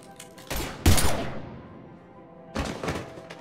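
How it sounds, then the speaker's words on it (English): Gunfire from the video game Mass Effect 3, a loud burst of shots and heavy thumps that fades into a decaying rumble, followed by another clattering volley near the end. "Now open fire!"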